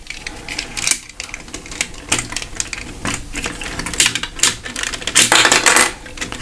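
Plastic clicks and snaps from a 1985 Transformers G1 Jetfire toy as its armor wings are folded down, a busy run of sharp, close ratcheting clicks across several seconds.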